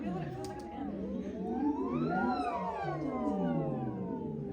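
A human voice imitates a siren, gliding smoothly up in pitch and then sweeping back down, sustained and fairly loud with layered harmonics.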